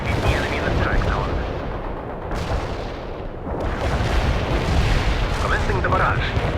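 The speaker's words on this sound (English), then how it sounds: "Launching the barrage. Artillery barrage." Artillery barrage in the World in Conflict video game, with dense overlapping booms and rumbling blasts that stay loud throughout and ease off briefly midway while radio voices speak over them.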